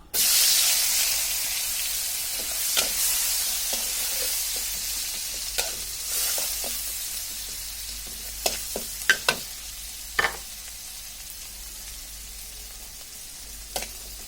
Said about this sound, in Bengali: এখন এর মধ্যে আমি পেঁয়াজ কুচিগুলো দিয়ে দিব।